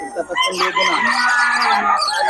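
A stag gamecock crows at the Bocaue tiangge market, one long, loud crow held for about two seconds close by, with faint crowd chatter around it.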